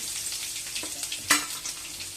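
Mustard seeds, cumin and crushed garlic frying in hot oil, a brief close sizzle with light crackles and one sharper pop or clink near the middle, no speech.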